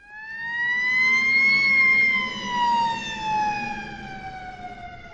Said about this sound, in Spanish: Son tan desagradables que ponen nuestras mentes en guardia. Por ejemplo, una sirena.